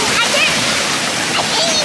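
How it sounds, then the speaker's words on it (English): A two-year-old splashing in a pool at Disney World, the water sloshing and spraying loudly and continuously up close, with voices calling over the splashing. "No splashing."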